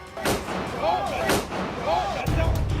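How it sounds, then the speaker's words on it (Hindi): Several sharp gunshots ring out inside the US Capitol building, echoing, with agitated voices and commotion underneath. "अमेरिका के संसद भवन के भीतर आपको गोली चलने की आवाज सुनाई पड़ेगी"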